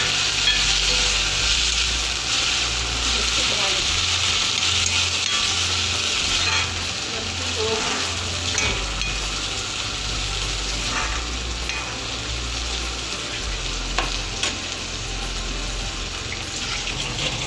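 Chicken cooked with banana tree pulp, turmeric and salt sizzles steadily in a pan while being stirred, with scraping and clattering from the utensil over a constant frying hiss and no speech.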